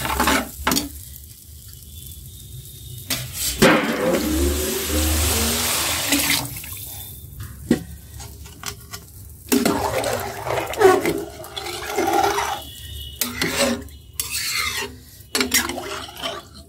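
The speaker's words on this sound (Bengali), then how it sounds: "এখন পানি দিয়ে দিব।" Water pours into a pot of rice frying for khichuri, making a loud rushing hiss and sizzle for a few seconds, followed by scraping stirs and clinks as cooking goes on. No one speaks.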